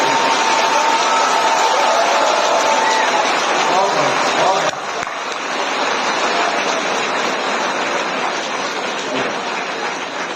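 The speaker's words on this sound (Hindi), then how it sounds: "तालियां बजाइए" A hall full of schoolchildren claps at an award ceremony at City Montessori School, a loud, dense, continuous roar of applause that eases slightly midway and carries on steadily.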